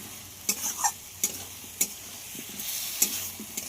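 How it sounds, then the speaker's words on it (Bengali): Coriander and cumin powder fry in a pan with a constant close sizzle, punctuated every half second or so by crisp clicks and scrapes of a spoon stirring against the metal. "সব মশলাগুলোকে খুব ভালোভাবে কষিয়ে নিতে হবে।"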